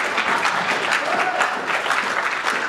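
A live audience at a tech talk on big data tools and OpenStreetMap bursts into steady, loud applause, many hands clapping together throughout with no voices on top.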